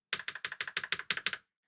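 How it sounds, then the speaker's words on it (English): Eight crisp, evenly spaced clicks of a Gateron tactile mechanical keyboard switch being pressed repeatedly, close and moderately quiet, then silence. "I have a normal tactile switch from Gateron."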